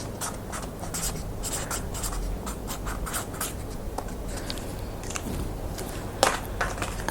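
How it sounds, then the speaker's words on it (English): Pen writing on a card, a steady scratchy scribble of strokes at close range with no talking, broken by one brief louder tap near the end. "I'm going to write that down"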